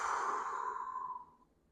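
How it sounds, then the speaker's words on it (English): A slow, steady exhalation of breath at a gun range, close and soft, trailing off gradually over a couple of seconds with no talking. "Breathe out."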